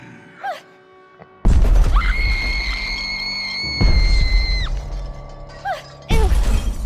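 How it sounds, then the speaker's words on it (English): A cartoon girl lets out a long, loud, high-pitched scream lasting about three seconds, set against crashing, rumbling monster-movie noise, with shorter squeals before and after. "Helpless girl scream."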